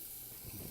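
Blackened catfish fillet searing in a hot pan, a steady close hiss and sizzle with faint crackle throughout, no talking.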